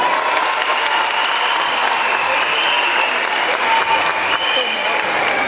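Steady, sustained applause from a large audience at a youth girls' mobilisation event, a dense even wash of clapping that holds throughout.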